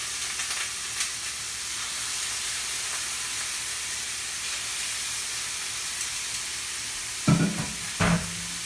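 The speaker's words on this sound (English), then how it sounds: "you're going skin side down into the hot oil" Chicken frying skin side down in hot oil makes a steady, close hiss and sizzle, with two brief louder crackles or clatters near the end.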